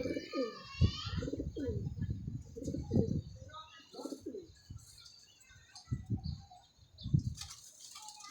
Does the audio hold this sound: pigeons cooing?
yes